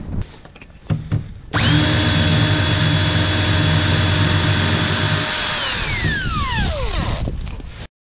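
A power tool whines loudly at close range while grinding metal off, holding a steady high-pitched run for several seconds before its pitch falls away as it winds down.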